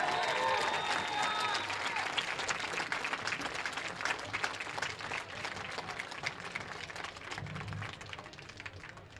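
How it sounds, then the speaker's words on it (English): Crowd applause at a high school football game during a Hall of Fame induction, a broad, steady wash of clapping that slowly tapers, with faint voices underneath. "give a big rounding applause to Jim Peterson"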